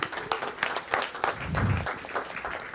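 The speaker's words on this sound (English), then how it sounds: "we'll give him a round of applause" Attendees at a village board meeting applaud an employee honored for five years of service, a modest, moderately faint scatter of clapping from a small room with a low murmur beneath.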